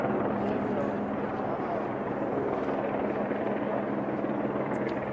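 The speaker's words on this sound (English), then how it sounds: "Sorry, Lane, I can't hear for the helicopter." A helicopter flying overhead at a press conference, a loud, steady rotor drone filling the whole stretch, close and unbroken, with no talk heard over it.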